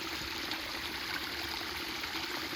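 Clear water from a mountain waterfall at Ban Na Ang runs down the hillside as a stream, giving a steady, close rushing and trickling wash that holds even and unbroken throughout.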